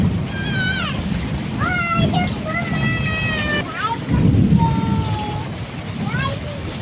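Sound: heavy rain pouring

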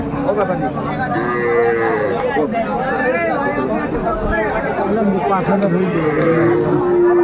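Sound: Sahiwal bull at a cattle market

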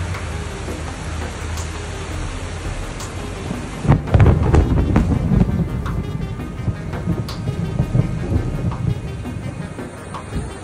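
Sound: heavy rainstorm with thunder flooding streets

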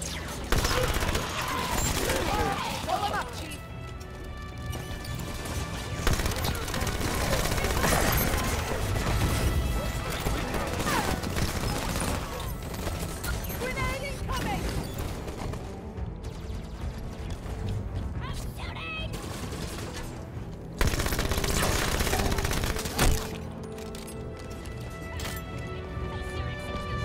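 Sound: SMG gunfire in the video game Halo 5

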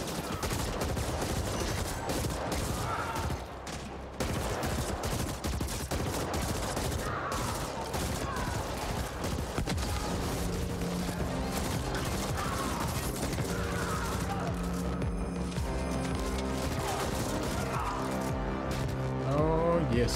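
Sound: gunfire, bullets in a video game

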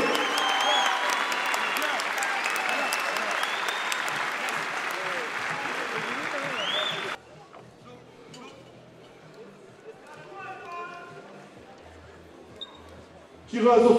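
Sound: spectators applauding fighters after savate boxing bout

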